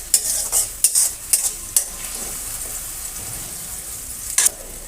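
Spice paste and salted onion frying in a pan, a bright crackling sizzle with several sharp scraping strokes of a spatula early on and another near the end.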